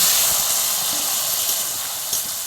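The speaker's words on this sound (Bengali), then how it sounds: "এবার দিয়ে দিচ্ছি মশলা বাটা জল" Spice paste and water poured into a pan of sizzling potatoes for a Bengali tangra fish dish, giving a loud, steady steaming hiss close by that eases slightly as it settles.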